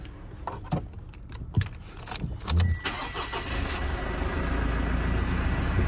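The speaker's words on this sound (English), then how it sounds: "Beautiful, that nice diesel sound." A 2017 Mitsubishi Triton GLX+ Club Cab diesel engine cranks with a few key and click noises, catches and settles into a steady, close, loud idle with no talking.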